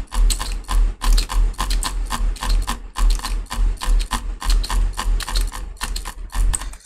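Drag clicking on a computer mouse while playing Bloxd.io makes dense, rattling bursts of rapid clicks that repeat in a steady rhythm. The clicking is loud and close, with no talking.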